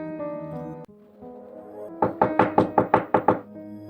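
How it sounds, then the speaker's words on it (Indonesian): Knocking on a wooden house door in a village: a quick run of about eight sharp, hollow raps, close and loud, over a sustained musical background. "Setiap pintu rumah dalam kampung larangan diketuk oleh bapakku."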